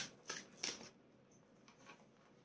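Small cards are riffled and handled at close range, two quick soft flurries followed by fainter rustles in a quiet room.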